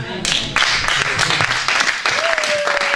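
A church congregation claps and cheers in short, loud bursts. The bursts overlap with a man preaching in French over them, and a sustained tone rises near the end.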